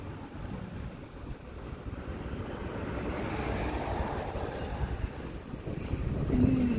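Warm wind blowing outdoors near a roadside, a steady low rushing buffet across the microphone that swells gradually louder, with a faint passing vehicle hum in the background.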